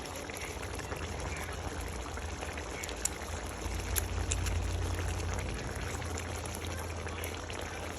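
Tamarind water is poured into a pot of chicken and potato curry, a soft, steady liquid trickle and gentle bubbling heard close by for several seconds without speech.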